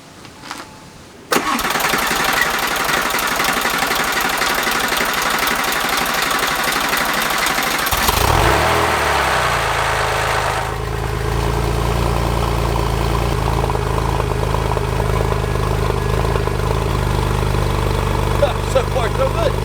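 A neglected Porsche 911 Turbo cranks and fires after a second of quiet, then settles into a loud, steady idle that runs on without a break, with a slight shift in tone partway through.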